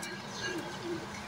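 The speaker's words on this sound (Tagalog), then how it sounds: "Hen to malamang eh, hen." A hen, among gamefowl, gives two short, soft cooing calls at moderate distance over faint background noise, with no talk.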